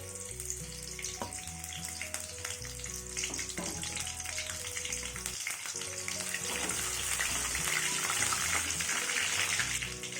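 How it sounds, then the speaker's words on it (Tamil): Cinnamon, cloves, cumin and fennel crackling in hot oil in a kadai for chicken mushroom gravy, a continuous sizzle under background music that grows slightly louder toward the end. "இப்போ பட்டை, லவங்கம் எல்லாத்தையும் போட்டு சீரகம், சோம்பு எல்லாத்தையும் போடுறேன்."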